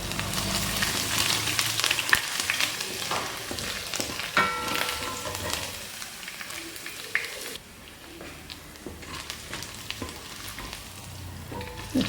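Ginger fries in hot oil in a pan, making a loud, continuous close sizzle with spatula stirring and scraping clicks, easing slightly partway through; no one speaks.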